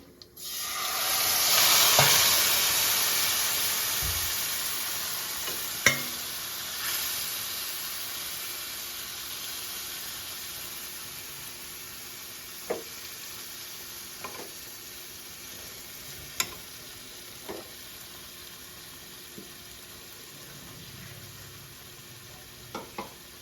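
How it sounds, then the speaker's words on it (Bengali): Fish is poured into a hot pan of oil, setting off a loud, sustained sizzle and spitting hiss up close that slowly settles, with occasional faint clicks and knocks from the cookware. "এই তো মাছটা আমি এখন ঢেলে দেবো।"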